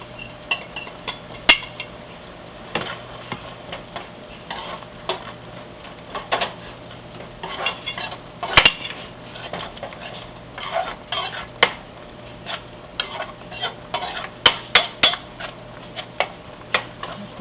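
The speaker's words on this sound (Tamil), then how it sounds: "தக்காளியை நல்லா நசுக்கி விடுங்க" Tomatoes being mashed and stirred with a utensil in a cooking pan for rajma curry, making irregular scraping clicks and taps against the metal that come in quick bursts over a low kitchen hum.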